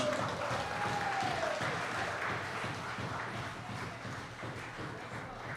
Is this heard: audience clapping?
yes